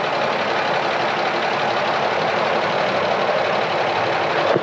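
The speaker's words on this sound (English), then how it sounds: "listen to his truck" A John Deere model 40 crawler idles steadily after firing up, a constant broadband rumble with an even, unbroken drone and no change in pace, moderately loud and heard alone.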